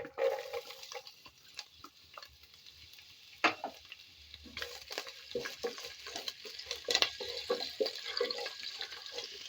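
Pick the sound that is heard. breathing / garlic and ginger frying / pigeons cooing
garlic and ginger frying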